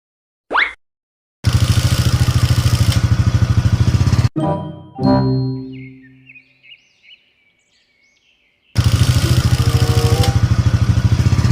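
A motorcycle engine runs in steady loud bursts, cutting off between them, with a revving rise and fall in the middle and some clinking.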